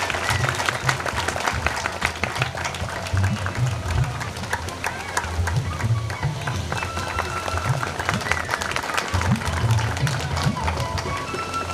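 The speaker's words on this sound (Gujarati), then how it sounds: "બધા તાળીઓથી વધાવી લેશું." Dense, steady applause from an audience at a school education event, continuing for the whole stretch with voices mixed in underneath.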